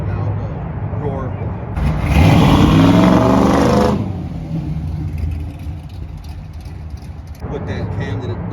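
A 1968 Chevrolet C10 restomod's V8 revs hard for a couple of seconds with a deep, loud roar through Black Widow exhausts, stage 3 cam, then settles back to a rumbling idle while people talk nearby.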